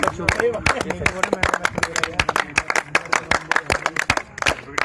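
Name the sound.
clapping for the team captain at a cricket match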